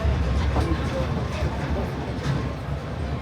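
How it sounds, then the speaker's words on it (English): A Walt Disney World Railroad train rolls toward Main Street Station, giving a steady, close mechanical rumble and rattle throughout, with a faint murmur of voices underneath. "Again, the train is still in motion."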